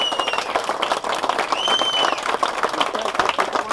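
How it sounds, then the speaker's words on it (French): A gathering of friends applauding, dense clapping from a crowd that carries on at an even, lively level for a few seconds, with faint whistles and voices mixed in. "Je voudrais que tout le monde applaudisse notre ami Paul"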